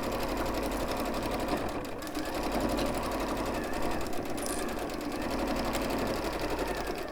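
Sewing machine stitching batik fabric, a continuous close whirring hum with a rapid needle rhythm and slight surges, while people talk over it.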